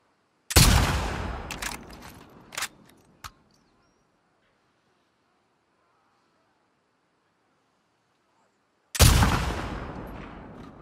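Rifle in The Last of Us Part II fired twice, several seconds apart, each a sharp loud crack with a ringing decaying tail, quiet faint sounds between the shots.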